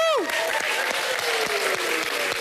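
An audience at a Halloween costume night applauds a contestant dressed as Hannibal Lecter, a dense, steady round of clapping that fills the room, with a voice briefly trailing off at the very start.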